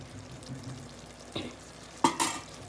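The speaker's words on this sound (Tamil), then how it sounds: "குருமா வந்து இது மசாலா பொடியெலாம் போட்டுட்டு நல்லா வதக்கிக்கிறேன்." Masala powder for a mutton kurma sautéing in a pan, with a low steady sizzle, a few scraping stirs, and two sharper clinks near the end.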